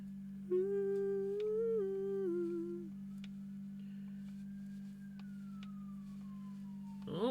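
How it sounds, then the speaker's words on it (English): A distant siren, like an ambulance, wails in smooth rising and falling tones over a steady low electrical hum, gradually sliding down in pitch as it fades. "Oh, we got some sirens."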